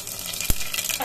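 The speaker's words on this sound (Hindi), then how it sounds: "इसमें हम अब डालेंगे जीरा और डालेंगे सरसों दाना" Cumin and mustard seeds crackle in hot oil in a pressure cooker, with a steady loud sizzle and one sharp pop in the middle.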